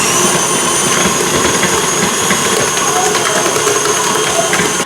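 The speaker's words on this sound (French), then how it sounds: "maintenant je vais augmenter la vitesse jusqu'à la vitesse maxi, donc la 10 si vous avez un KitchenAid" A KitchenAid stand mixer kneads soft, slightly sticky brioche dough at top speed 10, a loud, steady motor whine with a constant mechanical whir and no pauses.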